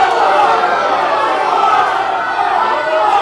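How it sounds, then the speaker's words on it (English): A wrestling crowd at an indie show fills the space with dense, continuous chanting and cheering, loud and steady throughout the short stretch. "we hear the crowd chanting for one more"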